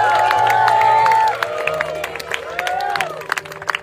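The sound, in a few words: wedding guests applauding the newlyweds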